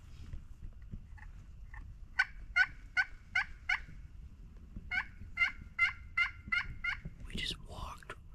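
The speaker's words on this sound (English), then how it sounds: "Listen for some gobbles right here at sunset." Wild turkey gobbling at sunset on Mississippi public land, two bursts of five or six rapid, rattling gobble notes, moderately distant, over a low outdoor rumble, with rustling noise near the end.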